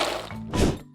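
A box dropped onto the floor lands with a single dull whack and thud, preceded by a brief scuffle as it falls.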